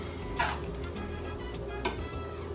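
Onions cook in a pan for chicken penne pasta, giving a faint steady sizzle with two light utensil scrapes against the pan.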